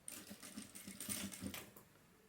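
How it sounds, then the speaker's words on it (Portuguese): A sewing machine runs a short, steady stitching burst across a denim pocket being sewn onto a jeans-scrap wallet, its quick mechanical chatter soft and close, with no one speaking. "E passar uma costura aqui para fixar."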